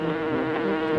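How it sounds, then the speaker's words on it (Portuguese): A large bee buzzes loudly and steadily at close range, a continuous droning hum with no pauses and no voices over it. "Eu tô escutando o zumbindo dela, mas tá muito alto."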